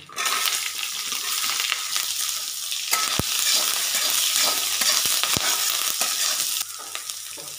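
Grated coconut frying with curry leaves and onion for a dry beef coconut fry gives a steady, loud sizzle with scraping stir strokes and a few sharp clicks. It runs throughout, fading slightly near the end, with no voices.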